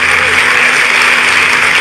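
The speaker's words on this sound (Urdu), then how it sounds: "ایک بار مجموعی طور پہ یار حافظ بھائی کے لیے تالیاں بجائیں" Dense, loud audience applause fills a poetry mushaira in Dubai, a continuous wash of clapping from a large crowd sustained throughout.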